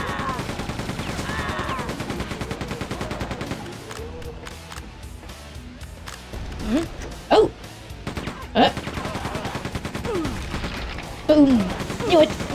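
Gunfire and explosions from the Quake II shooter game, with rapid weapon bursts followed by several sharp booms scattered through the scene, loud and close, with occasional speech.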